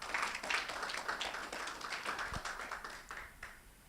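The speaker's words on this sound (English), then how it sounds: "Round of applause for our panel." Applause for a panel at a report launch event, a dense wash of clapping hands sustained evenly through the moment and fading slightly at the end, with no voices over it.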